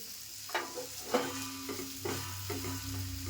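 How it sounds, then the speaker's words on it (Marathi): Bitter gourd pieces frying in a little oil while being stirred, giving a continuous close sizzle with repeated scraping strokes of a spatула every half second or so, and no speech. "थोडं थोडं तेल टाकून व्यवस्थित भाजून घ्यायची"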